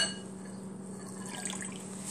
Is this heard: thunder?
no